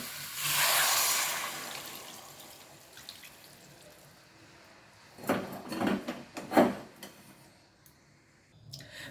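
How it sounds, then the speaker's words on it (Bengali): Hot water poured into a simmering prawn and potato curry, a soft rushing pour at the start followed by a few louder splashy stirs and clinks near the middle, close by. "এখন আমি গরম জল দিয়ে দেব"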